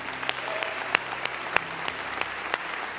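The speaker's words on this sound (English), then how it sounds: "this next round of applause is just for you" Church congregation applauding during a Sunday service, a steady mass of clapping with a few loud, sharp claps popping out above the crowd.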